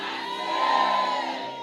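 A church congregation shouts praise to God together, a loud sustained crowd roar that swells in the middle and holds steady without clear individual words.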